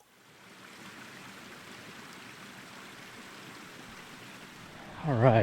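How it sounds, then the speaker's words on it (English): A mountain stream near a cave camp runs in a steady, moderately loud wash of water, continuous and unbroken, with a brief louder splash or rustle at the very end. "I can hear running water"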